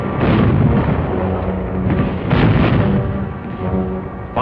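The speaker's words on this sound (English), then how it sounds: "concentrate our artillery, mortar, and small arms fire on the enemy" Heavy battlefield artillery and mortar fire, loud overlapping booms and rumbling blasts in quick succession with no pause.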